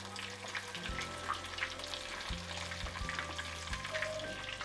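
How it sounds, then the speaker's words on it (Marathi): Chicken tandoori pieces roast in a pan with a loud, constant sizzle and crackle, broken by a few dull thumps as the pieces shift. "आता हे दुसऱ्या साईडनं बघा चांगलं भाजून घ्यायचं."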